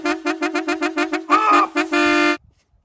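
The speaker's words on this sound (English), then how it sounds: "Whoever painted that tractor should have put a lump of filler in that air horn" A tractor's air horn honks in a run of about eight short, evenly spaced toots, then gives one longer wavering blast and a final sustained blare before cutting to silence, loud and close.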